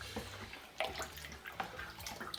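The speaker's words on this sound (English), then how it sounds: "And then come on in, James, give it a nice stir around" A spoon swirls six pints of cold water and chopped rhubarb in a brewing bucket for no-cook rhubarb wine, giving quiet splashing and sloshing with a few brief knocks, close and fairly soft.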